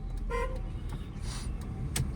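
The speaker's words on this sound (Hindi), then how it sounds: "आप सिग्नल दो लेफ्ट का, और लॉन्ग हॉर्न प्रेस करो।" A single short car horn toot sounds near the start over the rumble of an idling engine.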